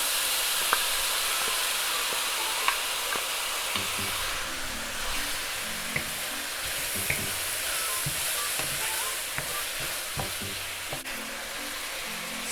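Pork and other meats fry in a hot pan for chow mein, a continuous close hissing sizzle with light scraping and stirring clicks scattered through it.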